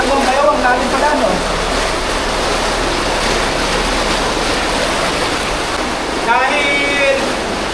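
Water pours steadily into the fish hold of a small Philippine fishing outrigger boat carrying fingerlings, a constant loud rushing splash throughout, with someone talking over it.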